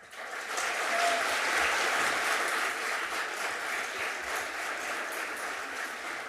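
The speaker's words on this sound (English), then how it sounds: "I could get very used to all this clapping" Sustained applause fills a commission meeting room, steady and dense from start to finish with no talking over it.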